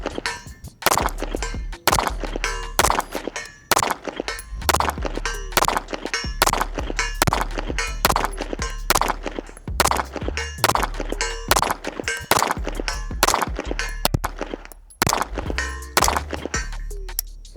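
A Reaper 2011 pistol fires steadily at a 100-yard range. Many sharp, loud shots come at an even, quick pace, each with a faint distant ring of the steel target, and there is no talk.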